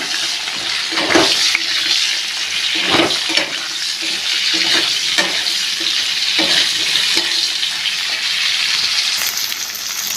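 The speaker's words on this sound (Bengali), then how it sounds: "কচুর ট্যাগা কেটে রেখেছিলাম সেইগুলো দিয়ে দেব একটুখানি তেলের উপর কষিয়ে নেব" Chopped taro stems sauté in a little oil in a pan, a steady bright sizzle running throughout with occasional stirring scrapes and knocks, close and fairly loud with no talking.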